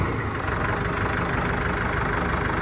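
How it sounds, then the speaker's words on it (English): A Mahindra 4550 4WD tractor with backhoe idles steadily nearby with a rough, even rumble and faint knocking texture, unchanging throughout. "our tractor sounds like a real tractor"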